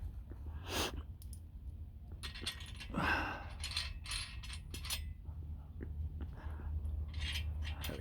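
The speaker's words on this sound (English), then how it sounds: "Adjustable wrench time." An adjustable wrench tightens bolts on a Harbor Freight Pittsburgh 2000 lb engine stand during assembly, giving a few close metallic clicks and scraping ratchet-like sounds over a low steady hum, with no talking.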